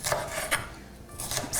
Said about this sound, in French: Je vais râper du gingembre.